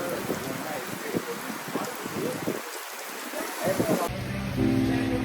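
Steady rain hisses and patters throughout on Maafushi Island in the Maldives, with voices speaking under it, before the sound shifts abruptly near the end.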